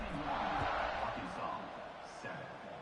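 College football stadium crowd waiting for kickoff, a broad roaring murmur of many voices at a distance, with a commentator talking over it.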